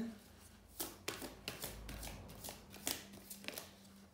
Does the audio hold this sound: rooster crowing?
no